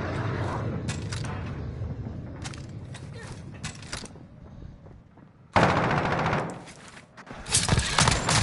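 Gunfire in a video game, with a shotgun headshot among it: repeated sharp, loud shots in clusters, a quieter gap, then heavy blasts and a rapid burst, with a voice speaking faintly between them.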